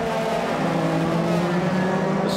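Euroformula Open race car at Monza sweeping through the Curva Grande in qualifying, a loud, steady engine drone held close and at constant pitch for the full two seconds.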